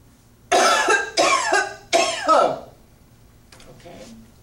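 A person performs a series of strong, forceful coughs on one exhalation as a breathing exercise, three loud close bursts in quick succession followed by a fainter breathy tail.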